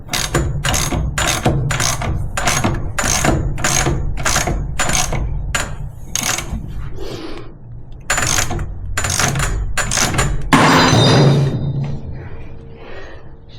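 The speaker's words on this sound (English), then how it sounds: "Put it on a ratchet, this will be easier." A ratchet with a 17 mm socket loosens a bolt on a Kawasaki KFX 450r ATV, giving rapid bursts of sharp clicking strokes in a steady rhythm, a brief pause, then a few more close, crisp clicks.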